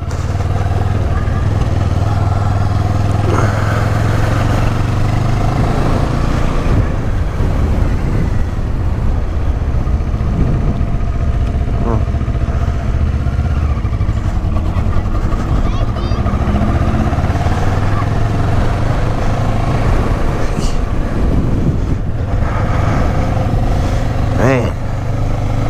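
A Yamaha FZ-09 motorcycle engine drones steadily with wind rush while riding, loud and continuous, with occasional shifts in pitch as it accelerates.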